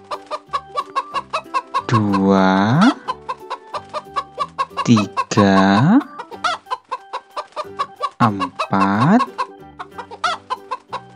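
Chickens in a garden cluck in repeated loud bursts over a rhythmic background, while a voice counts along between the calls.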